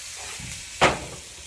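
Onion frying with curry in a pan for Jamaican curry shrimp gives a soft, steady sizzle, with one brief louder hiss or stir partway through.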